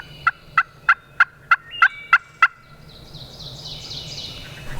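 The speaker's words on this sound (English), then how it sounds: "I heard a bird gobble" A wild turkey in the Virginia woods gives eight sharp, evenly spaced gobbling notes at close range, then a fainter rolling gobble trails off into quiet outdoor ambience.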